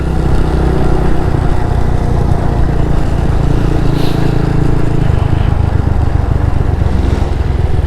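Four motorcycles ride together in road traffic in Aurora, a loud continuous engine drone with rumbling low tones and passing wind noise, no talk.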